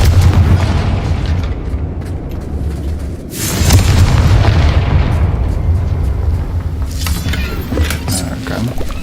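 A Confringo spell blast in the video game Hogwarts Legacy: a loud, deep explosive boom rolls out with a long rumbling tail, followed by a second burst near the end.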